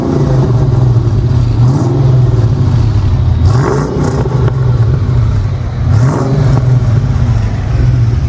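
A fairly stock car is revved through a budget aftermarket muffler, with a loud, close low rumble that swells in repeated throttle blips over a steady idle drone.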